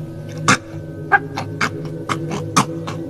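A voice mimics wet chewing and gnawing, like someone eating with lips smacking and teeth knocking, in a string of irregular moist clicks and smacks over a low background hum.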